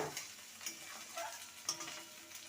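Bottle gourd curry with a little added water is stirred in a pan, giving a soft, steady sizzle with faint scraping ticks from the spoon; no one speaks.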